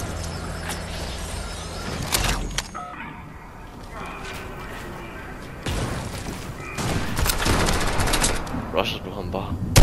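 Gunfire in Fortnite, Chapter 2 Season 8: rapid bursts of shots and sharp cracks come close and loud over a busy game soundscape, with a heavier flurry toward the end.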